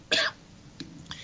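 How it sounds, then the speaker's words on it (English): One sharp, close cough at the start, followed by a couple of soft breathy throat sounds. "Knew that cough would come at some point in time"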